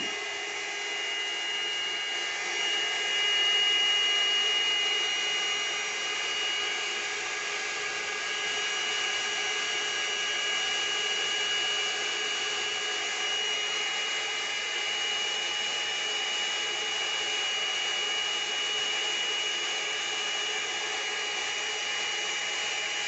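A hair dryer blows air steadily and carefully across wet paint on a 40 cm placemat, a constant moderately loud whoosh with no talking.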